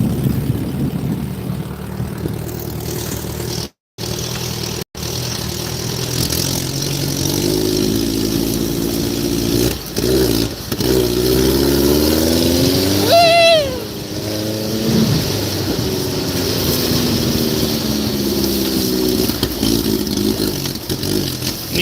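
A small engine with a faulty, cheap carburetor revving up and down, a loud close motor sound with rising and falling pitch sweeps and rough idle between, running almost continuously apart from two brief cut-outs.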